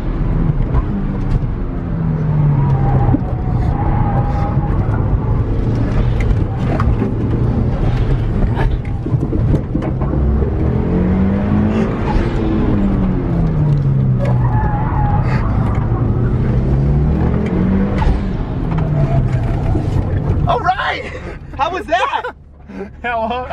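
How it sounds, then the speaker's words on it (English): Mitsubishi Evo on newly fitted wheels drifting, with a loud continuous engine drone and rising, falling tire squeal sweeping back and forth, and voices talking and laughing over it before a rattling, bumpy finish. "Oh, we're drifting."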